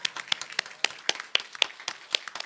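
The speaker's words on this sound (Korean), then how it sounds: "박수하겠습니다" A church congregation clapping together in a steady rhythm, with sharp, fairly close claps repeating evenly over a couple of seconds.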